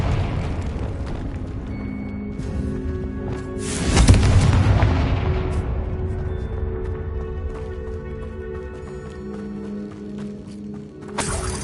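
A Confringo explosion spell in a Harry Potter video game goes off with a single loud booming burst about a third of the way through, then fades into a rumbling game ambience.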